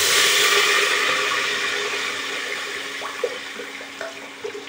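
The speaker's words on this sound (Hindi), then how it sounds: "एबे कौन करिया पानी ढाल दबा" Water pours steadily into a cooking pan of fresh vegetables with a broad hissing rush that gradually tapers off, with a few small clinks near the end.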